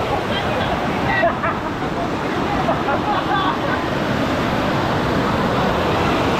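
Waterfall at Talon Falls in Ternate, Cavite, pouring as a loud, continuous rushing wash of water close by, with faint voices briefly audible beneath it.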